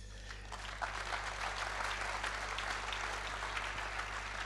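An audience at an agriculture awards ceremony in Saône-et-Loire claps steadily, a dense, sustained applause heard from within the hall over a low constant hum, without speech.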